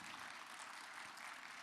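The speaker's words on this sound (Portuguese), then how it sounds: "Aplaudamos o nosso Deus." A church congregation claps together in steady, dense applause, faint and slightly distant, with no talk over it.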